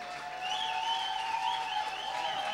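Applause at a gala evening after a school rock band's performance, a soft, distant, steady patter of clapping beneath sustained musical tones.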